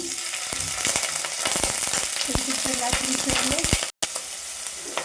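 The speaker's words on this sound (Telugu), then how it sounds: "నూనె వేడెక్కింది ఇక మనం పన్నీర్ వేసుకుందాం" Paneer cubes drop into hot oil for palak paneer and fry with a steady, close, crackling sizzle, punctuated by sharp stirring clicks and a brief cut near the end.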